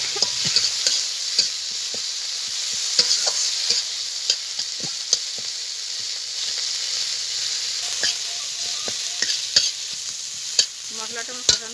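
Chopped tomato sizzles in a spiced masala for a rohu fish and cauliflower curry while a utensil scrapes and stirs the pan in frequent, uneven clinks over a constant hiss, with nobody speaking.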